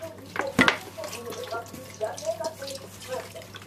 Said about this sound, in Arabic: ونصب عليها طوى الخل